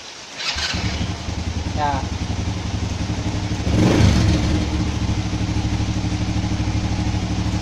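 An underbone motorcycle's electric starter whirs briefly before the engine catches, then idles with a steady putter and a short rev midway; someone speaks briefly near the start.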